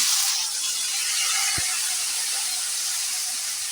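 Ginger, tomato and green chilli paste going into a hot pan already holding cumin, cloves, cinnamon and cardamom for a paneer dish, giving a loud, steady hiss and sizzle that continues on its own.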